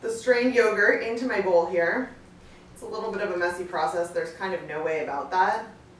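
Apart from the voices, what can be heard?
No distinct noise like a dog, phone or traffic.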